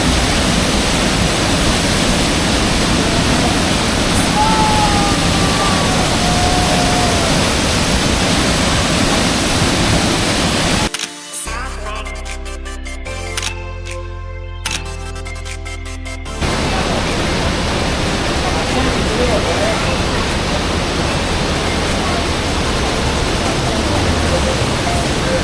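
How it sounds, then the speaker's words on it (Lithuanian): A waterfall in Sapadere canyon, Turkey, pours as a dense, loud, steady rush of broadband noise, briefly cut by a few seconds of near silence midway before the roar resumes unchanged. "Ir čia toks krioklys."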